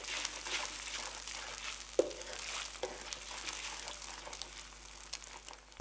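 Eggs stirred through chili paste and hot oil in a wok give a steady, even frying hiss with soft scraping and crinkling from the stirring, plus one sharp knock near the middle.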